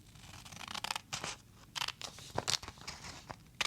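Scissors snipping through junk journal pages made from a repurposed cracker box, a series of short close crisp cuts and crinkles at an uneven pace, quiet between strokes.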